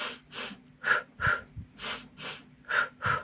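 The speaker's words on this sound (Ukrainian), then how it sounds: "Ще раз беремо вдох і видах." Children in a young vocal ensemble take deep breaths in and out together during a warm-up exercise, about eight loud, rhythmic airy breaths in a steady pulse, close and without talking.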